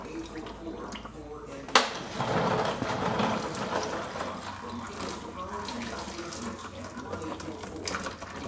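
Gear oil from a GM truck differential, such as a Silverado or Tahoe, drains into a pan with a steady liquid splashing and trickling after a sharp clank, and someone talks over it.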